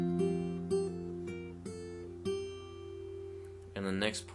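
Close acoustic-style guitar picks a short passage from a song: several plucked notes ring out and sustain, ending in a brighter, busier strum or scrape.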